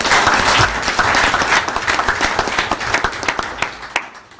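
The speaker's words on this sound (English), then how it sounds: "So I just want to give them a round of applause on the actions that they did this semester." A room at a board of education meeting breaks into loud applause for a student group, dense clapping that gradually thins to scattered claps before stopping.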